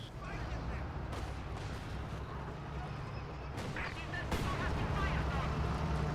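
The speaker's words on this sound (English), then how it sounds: "Just got this artillery barrage running somewhere" In Company of Heroes 2, an artillery barrage thuds and cracks in a dense battle mix, with sharp blasts landing at irregular intervals over rumbling combat noise and a commentator talking throughout.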